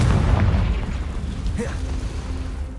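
A Confringo blasting spell explodes in Hogwarts Legacy, a loud low boom that rumbles and fades over a couple of seconds, with faint game effects trailing after.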